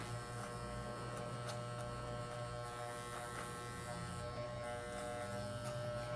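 An electric hair clipper buzzes steadily while trimming an undercut fade, giving a faint, continuous motorized hum with light rhythmic clicks of contact through the hair and no speech.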